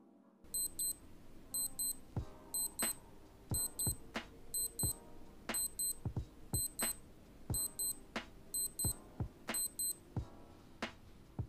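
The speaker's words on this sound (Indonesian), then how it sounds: "untuk bunyi alarmnya kayak gini" A Casio G-Shock GA-2100 alarm chirps in rapid four-beep bursts, repeating about ten times at a steady pace, shrill and thin, with soft clicks and knocks underneath.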